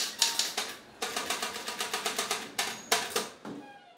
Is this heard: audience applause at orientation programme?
no